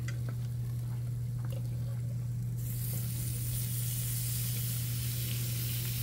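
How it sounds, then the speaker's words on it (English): Steak bites sear on a hot Blackstone griddle, giving a steady sizzling hiss that grows louder and brighter partway through, along with a constant low hum. "you want to put your steaks on the hottest part of your grill"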